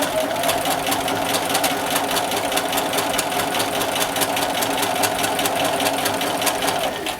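A domestic sewing machine stitches steadily on fabric during roll kit sewing, a close, continuous mechanical whir with a fast even needle rhythm running without pause.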